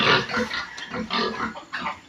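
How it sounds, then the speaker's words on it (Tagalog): Pigs grunt and snort at feeding time, a close run of several rough, rhythmic grunts overlapping one another with no talk. "Makapaghapunan ang mga baboy."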